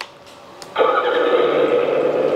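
A 1/14-scale LESU 374F RC hydraulic excavator's simulated engine starts up abruptly after a couple of faint clicks, then settles into a steady electronic idling drone, close and fairly loud.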